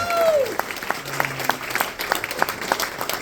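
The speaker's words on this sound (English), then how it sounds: "round of applause for our first four storytellers" An audience at a storytelling event claps for the first four storytellers. The applause is moderate and scattered, with individual claps standing out, and a brief voice and tonal sweep at the start.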